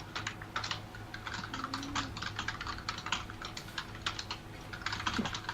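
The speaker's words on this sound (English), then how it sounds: "I can just hear his furious typing." Rapid, furious typing on a computer keyboard, with dense irregular bursts of key clicks running steadily throughout under a low background hum, close and fairly loud, no voices.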